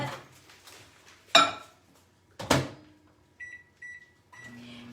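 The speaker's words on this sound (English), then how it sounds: "I'm gonna step over here to my microwave and just heat up this water a little bit." A household microwave oven is used to heat water: its door clunks open and shut, short beeps sound as buttons are pressed, then the low hum of the oven starting, all close by with no talking.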